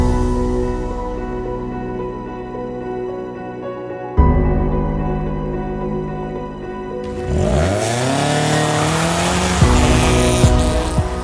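A Toyota GR Yaris rally car in racing livery drives past, its engine note rising and falling through steady revs, then a loud burst of acceleration with swooping pitch changes and tire squeal close by.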